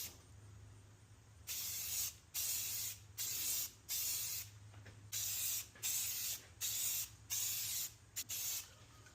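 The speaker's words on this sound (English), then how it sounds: "What we want to do is start off the edge and spray off the edge." Repeated hissing blasts from a spray can, about eight short bursts in a steady back-and-forth rhythm, close and clear against quiet.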